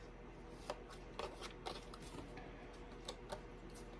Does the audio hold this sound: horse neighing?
no